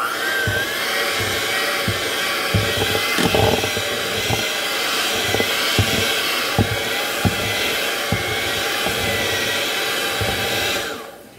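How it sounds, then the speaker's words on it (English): An electric hand mixer whirs steadily while whipping icing made from whipped cream and powdered sugar. The motor drone is close and continuous, with light knocks of the beaters against the bowl, and it cuts off at the end. "So we're gonna use the hand mixer."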